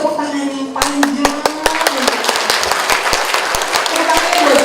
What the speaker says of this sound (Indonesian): mari kita tepuk tangan yang panjang